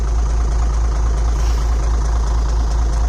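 A tractor engine idles steadily, towing a homemade scrap-metal disc harrow. The low, heavy rumble runs unbroken and close, with a faint rhythmic knock and no other sounds.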